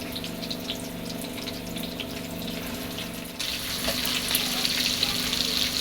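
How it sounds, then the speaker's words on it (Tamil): Fish frying in a pan gives a continuous bubbling sizzle beneath a low steady hum, growing louder and more crackly partway through. "இப்போ நம்ம மீன் வறுத்துக்கலாம்"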